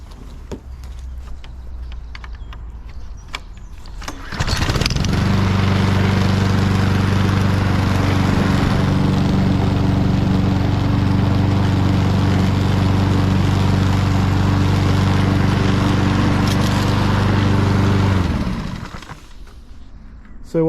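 A ride-on lawn mower starts up and drives across a garden lawn for edging, its engine droning loudly and steadily nearby for about fourteen seconds before cutting off, with quieter outdoor sounds before and after.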